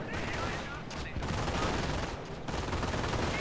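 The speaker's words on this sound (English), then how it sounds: "Mortar half-track put down incendiary barrage on the AT nest." A mortar half-track's incendiary barrage in a World War II-style strategy game lands as a dense, continuous crackle of explosions and gunfire, loud and sustained with brief dips.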